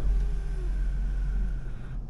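Sunroof motor of a 2006 Hummer H2 running inside the vehicle: a steady low whirring drone with a faint rising mechanical whine, continuous for about two seconds before cutting off, with no voices.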